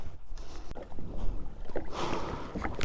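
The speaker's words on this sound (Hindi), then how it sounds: "ये हमारी जेट स्की।" A 900 cc jet ski rides across the lake at Odhani Dam in Banka, Bihar, its engine and rushing water blending into a steady, fairly close roar with wind buffeting, growing louder and brighter toward the end.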